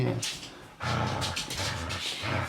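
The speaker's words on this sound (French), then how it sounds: "Excusez-moi du bruit, là, mon chien a décidé qu'il y avait une corde puis il voulait absolument" A dog plays tug with a rope, making close, busy panting and whimpering noises in short bursts with scuffling in between.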